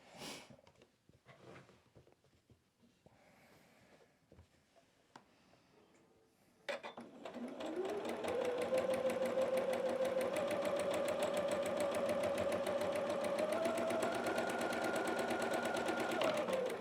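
Sewing machine stitching quilt pieces for a Lori Holt quilted snowman. Soft talk gives way to a loud, steady machine whir that runs continuously for about ten seconds, close by.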